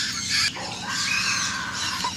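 Moluccan cockatoo squawking in captivity, a harsh raspy screech repeated in several loud close bursts, alone without talk.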